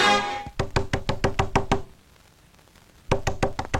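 Sharp knocks on a door come in a quick run of about eight raps, stop for a moment of near silence, then start again in another fast burst, loud and close.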